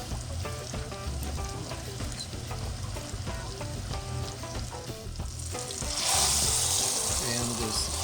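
Pot roast browning in a hot pan, a continuous crackling sizzle with spatula turns and scrapes, swelling into a louder hiss near the end.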